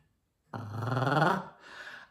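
A human voice imitates a dog unsure whether to bark: a low, rough, growly vocal sound held about a second, then a softer trailing breath, close and fairly loud.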